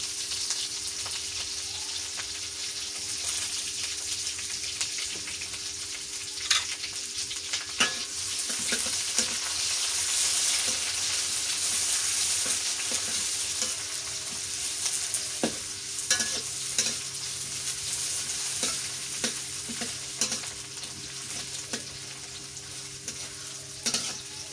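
Chopped onion fries in hot oil with cloves and cumin in a home kitchen, a steady bright sizzle broken by clinks and scrapes of a stirring spoon against the pan, with no voices.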